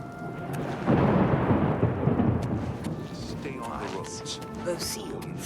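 Thunder rolls loud and close through a lightning storm in the video game Oblivion Remastered, a heavy rumbling crash swelling early and fading into a steady wash of rain.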